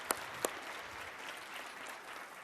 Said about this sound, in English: Give him And a I hope big to see round of you here. applause.